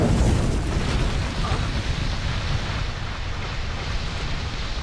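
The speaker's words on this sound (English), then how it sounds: "That was a dragon firework?" A dragon firework in an anime episode goes off as a loud, roaring blast, a broad rumbling wash that slowly thins out into a sustained windy roar.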